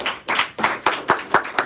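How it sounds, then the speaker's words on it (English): A few people at a team meeting clap in a short burst of sparse, uneven claps, close and moderately loud, with no voices over them. "So let's give Isabella a big round of applause."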